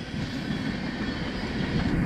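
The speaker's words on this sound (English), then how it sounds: "BNSF westbound ethanol train on the CSX BNO line." A westbound BNSF freight train hauling ethanol tank cars rolls past on a CSX line in Fostoria, Ohio, a steady loud rumble of wheels and rail noise that swells slightly toward the end, with no voices.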